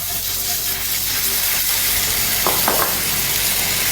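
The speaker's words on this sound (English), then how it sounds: "we're going to add 1 tablespoon of butter." Butter added to caramel cooking over low heat, a loud, steady hissing sizzle with bubbling, close up, and a few brief sharper spits near the end.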